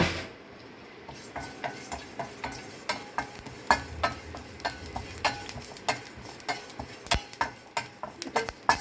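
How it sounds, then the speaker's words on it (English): Cumin seeds dry roasting in a hot pan, crackling and popping in a steady run of sharp close ticks while being stirred, with no talking. "I am going to add 1 spoon of cumin seeds and dry roasted"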